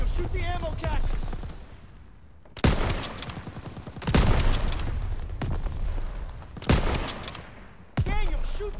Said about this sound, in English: Daniel, shoot the ammo caches around the pack 38.